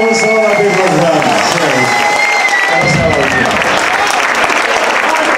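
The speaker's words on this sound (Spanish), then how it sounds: "Un fuerte aplauso" A crowd applauds at a live blues big band concert, a loud, dense burst of clapping with voices and some musical tones mixed in, sustained throughout.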